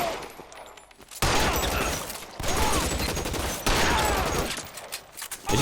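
Heavy automatic gunfire from the video game L.A. Noire fired at a teammate, coming in loud sustained bursts separated by short pauses after a quieter opening.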